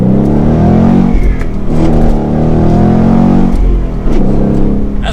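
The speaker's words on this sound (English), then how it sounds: "we'll do a little bit of a first gear acceleration" A 2021 Ford Mustang GT Premium coupe with a manual gearbox pulls hard in first gear. Its loud engine note climbs steadily in pitch, eases briefly at a shift point, then roars upward again.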